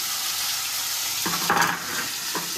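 Ginger paste and cumin powder sizzle steadily in a hot pan while cooking a cauliflower pulao, with brief louder bursts of frying and stirring partway through; no one speaks.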